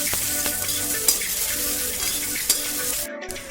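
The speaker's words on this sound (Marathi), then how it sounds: "आता याच कढईमध्ये मी कांदा घालून छान भाजून घेणार आहे" Onions roasting in a wok for a large batch of farm-style mutton curry give a steady close sizzle and frying hiss, with stirring scrapes and a couple of sharp clinks, and no talking.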